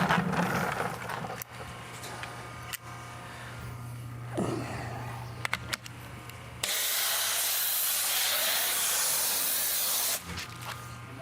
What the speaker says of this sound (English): So apparently there's a leak at something on the pressure washer.